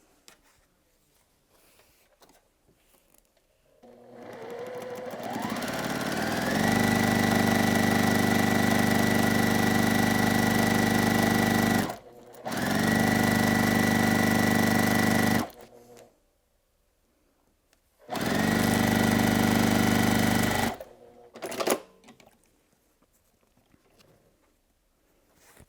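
A quilter's sewing machine stitches fabric strip sets in three long, steady runs separated by short pauses, the motor whirring loud and close with no talking.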